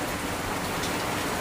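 Rain falls steadily in a brief, even, hissing patter that holds at a constant moderate level throughout.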